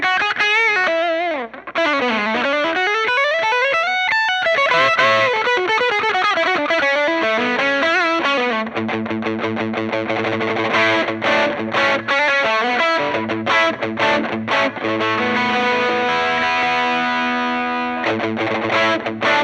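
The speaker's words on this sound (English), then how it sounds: "Drop a little bit of reverb on your signal and this thing just shreds." Electric guitar lead played through a distortion pedal with reverb, loud and sustained, with bending, sliding notes giving way to fast picked runs and ringing chords, no voices.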